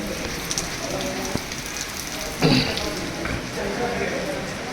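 Rain falls steadily on a surface as a continuous close hiss, with a short louder splash burst partway through.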